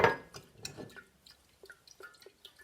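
A quarter cup of maple syrup poured into a batch of turmeric tea, heard as a few faint drips and liquid splashes that fade into soft, sparse trickles, with no talking.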